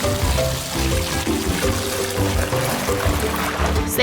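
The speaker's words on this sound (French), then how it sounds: "Il faut remplir l'aquarium d'eau." Water poured steadily into a small toy dollhouse aquarium, a continuous close splashing trickle lasting a few seconds with no talking.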